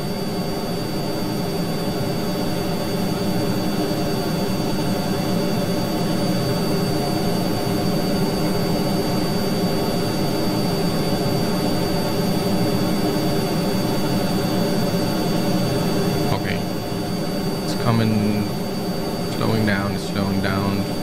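Rocket engines firing in Kerbal Space Program, a steady loud roaring drone throughout, with a few brief tonal sweeps near the end.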